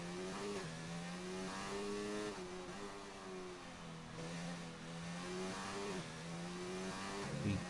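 A McLaren Formula 1 car screams around the Hungary circuit in the racing game F1 2019, its engine note holding high and dipping briefly at gear changes, loud and continuous with no voices.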